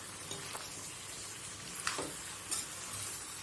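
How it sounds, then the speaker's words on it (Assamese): Duck meat sizzles steadily in a hot pan with ground black pepper, the close, continuous frying crackle broken by a few brief scraping knocks as it is stirred. "আকৌ অলপ এনেকৈ লৰাই দিলোঁ।"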